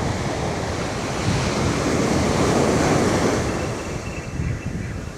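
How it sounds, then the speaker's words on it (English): Big ocean surf breaks on a beach in a broad, continuous roar that swells and eases, close by, with wind buffeting the microphone. "You might notice there's some pretty big surf out here"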